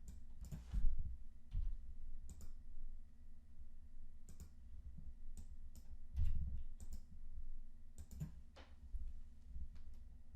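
Typing on a computer keyboard, with sparse, irregular key clicks in short bursts heard close over a low steady hum, no speech.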